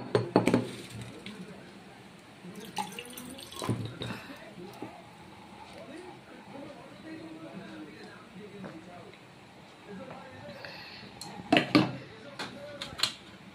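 Glass and dishes clink while water is drunk during a home tea-and-biscuit break, a few sharp, light chinks spaced apart, with quiet room noise between and a voice speaking.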